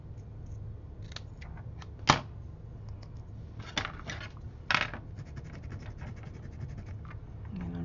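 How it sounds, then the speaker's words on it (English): Scissors snip close by through spare elastic on a traveler's notebook, with a sharp cut and a few smaller clicks and scratches of handling, spaced apart over a quiet background. There is no talking. "And then cut off the extra."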